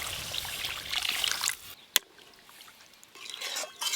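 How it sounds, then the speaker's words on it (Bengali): Water poured into a sour curd mixture for a village fish curry: a close trickling pour for about a second and a half, then a sharp clink and quieter stirring sounds. "এবার জল দিয়ে দেব।"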